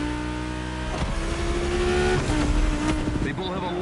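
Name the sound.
1990 Audi Coupe Quattro turbo engine revving, The Crew video game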